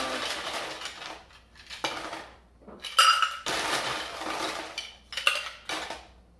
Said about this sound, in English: So we're going to add ice.